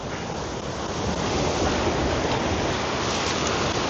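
Sea waves wash steadily against a rocky shore where someone is fishing, a dense, continuous rushing surge that swells slightly and fills the whole scene with no voices.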